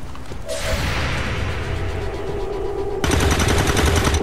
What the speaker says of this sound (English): Lead goes for a shot.